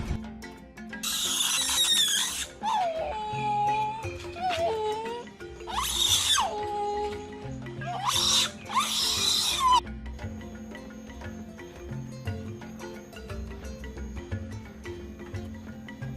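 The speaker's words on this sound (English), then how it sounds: "you woke up in the morning by screaming monkeys" Monkeys screaming in the morning near a missionary family's home: loud, shrill squealing calls in several bursts over the first ten seconds, then quieter background sound.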